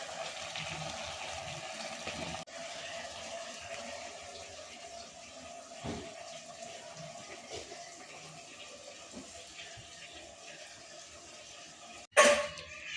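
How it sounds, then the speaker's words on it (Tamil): Water poured into a pot of rice while making biryani, a steady continuous pouring rush lasting several seconds, ending with a sharp clatter. "அரிசி தண்ணி எல்லாத்தையும் ஒன்றா ஊற்றி கலந்துக்கலாம் ஃப்ரெண்ட்ஸ்."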